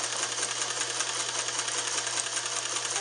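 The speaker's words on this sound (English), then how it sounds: "Step on the foot control here. Okay, so hold it till the machine has taken a few stitches and then you can let go." A Japanese-made The General sewing machine stitching, a continuous fast mechanical whir and rapid needle chatter with a steady low motor hum, close and even throughout.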